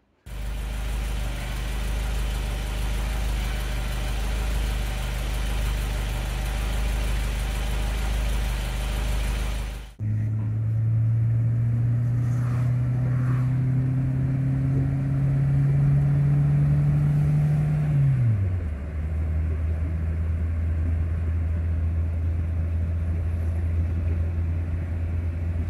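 A car with an automatic gearbox idles after its transmission fluid was changed. A loud, rough running noise gives way to a steady engine hum with a slowly rising whine that drops suddenly near the end. No speech.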